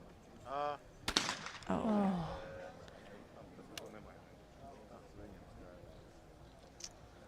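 A single sharp, loud shotgun blast at a men's trap shooting final in Lonato, Italy, with a fading echo, preceded by a short vocal call and followed by quieter range ambience and a faint distant report.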